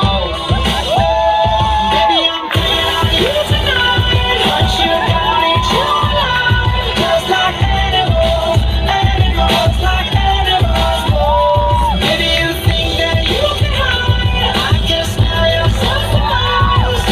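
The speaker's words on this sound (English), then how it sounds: "boys and girls, give a huge round of applause" Loud crowd cheering, whoops and shouts fill a college fest fashion show at National Law University, continuous and dense over loud music.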